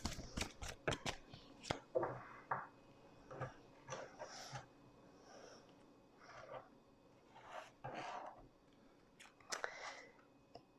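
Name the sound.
deck of cards being cut and shuffled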